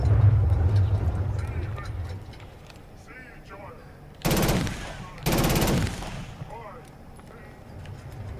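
Two loud bursts of automatic gunfire ring out in the video game Killzone Shadow Fall, each lasting under a second, over a rumbling game ambience with faint chatter in the background.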